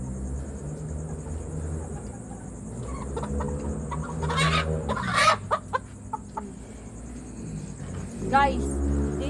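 Pet chickens cluck and squawk during a night-time deworming, with close, irregular clucks and a few sharper calls around the middle and end, while a person talks over the birds.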